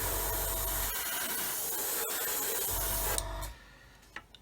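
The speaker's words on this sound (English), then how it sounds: "I'm just going to now just run some primer up this fuselage seam, some over the nose, same back here" Primer sprayed along the fuselage seam of a 1/144 scale model aircraft, a continuous close hiss lasting about three seconds before cutting off to near quiet with a faint tap.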